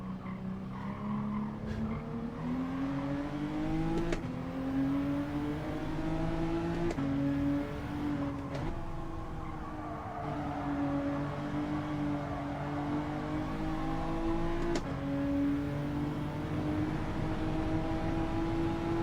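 A race car engine in a sim racing time trial drones continuously, its pitch rising and falling through gear changes, with squealing tyres throughout and no talking.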